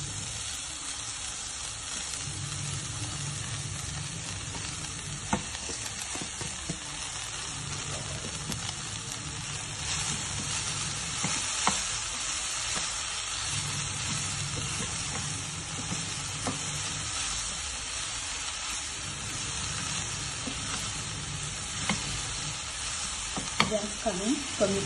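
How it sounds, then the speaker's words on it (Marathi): Chopped fenugreek leaves fry with garlic in a pan, a steady close sizzle with scraping stirs of a spoon throughout and occasional light taps, no talk. "त्यामध्ये ही चिरलेली मेथी टाकून देऊया"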